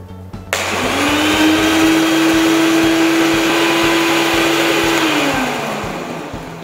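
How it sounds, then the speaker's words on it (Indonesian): A blender spins up and runs steadily, mixing liquid for an emulsion, its loud motor whine holding one pitch for about five seconds before winding down, with no voices. "Setelah cairan dimasukkan ke dalam blender, putarlah selama 30 detik."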